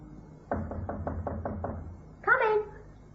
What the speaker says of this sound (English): It was at 7 o'clock that night that I knocked on her apartment door.